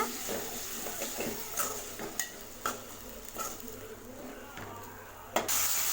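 Chopped tomatoes and green chillies sautéing in a pan for mutton dalcha, a close, steady sizzle broken by repeated metal spatula scrapes and taps against the pan.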